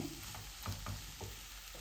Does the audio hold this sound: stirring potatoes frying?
yes